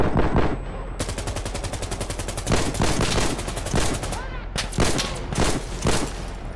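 An SKS rifle fires in the video game Insurgency: Sandstorm, loud and close, with dense rapid shots mixed with heavy distant gunfire in a sustained firefight.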